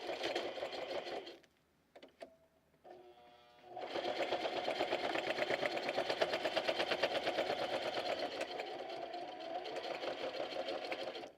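A sewing machine runs a straight stitch: a rapid, even mechanical whir that stops, gives a few short bursts, then runs steadily and loudly close by until the end.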